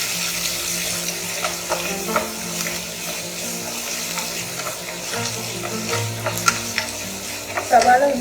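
Chopped onion with a crushed mix of ginger, garlic and green chili sautés in a one-pot paneer biriyani, giving a steady sizzle under repeated spoon stirs and scrapes, up close and fairly loud.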